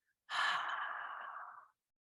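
A single long exhale of breath during an abdominal exercise, close and soft, rising sharply then tapering over about a second and a half, alone in quiet.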